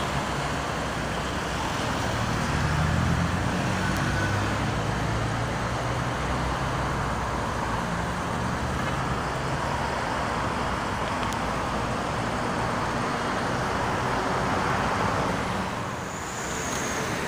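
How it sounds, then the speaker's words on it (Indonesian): Heavy traffic in a jam on the Jakarta–Cikampek toll road makes a loud, steady roadway roar that continues unbroken, with no voices over it. "Macet lagi."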